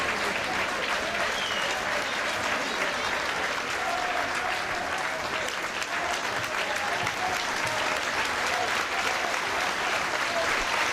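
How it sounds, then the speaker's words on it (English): Warm, sustained applause from a football crowd at Barnet versus Wrexham, heard from the stands as a continuous, even wash of clapping and crowd noise that holds steady throughout. "Warm applause for Curtis Weston"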